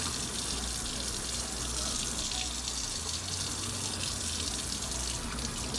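Tap water runs steadily into a sink while makeup brushes are squeezed and rinsed under the stream, a continuous close hiss and splash without pause.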